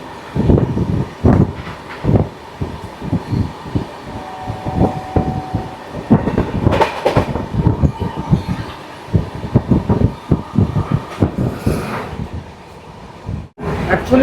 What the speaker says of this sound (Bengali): আমাদের ট্রেন পুরী এক্সপ্রেস এবারে ক্রস করবে 18005 হাওড়া থেকে জগদলপুরগামী সম্বলেশ্বরী এক্সপ্রেস।